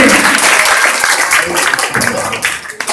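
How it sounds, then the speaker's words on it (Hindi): A crowd at an Ambedkar Jayanti celebration in Kailash Nagar, Ghaziabad, claps loudly for a child called up on stage. Brisk, dense applause fills three seconds and fades slightly toward the end, with voices mixed in. "अपने पास बुला कर बच्चे के लिए जोरदार ताली एक बार से"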